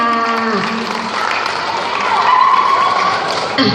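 Guests at a Thai wedding reception clap for the family of the bride and groom, a dense burst of applause that swells and holds steady over room noise, with faint voices mixed in.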